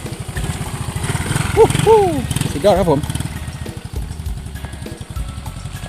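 A four-stroke motorcycle engine idles steadily during a test run after a smoking-exhaust repair, its even low putter continuing throughout while someone talks over it briefly.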